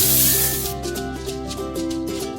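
In a children's cookie-baking video game, a soft powdery whoosh marks flour being added to cookie dough, brief at the start and then giving way to cheerful looping game music.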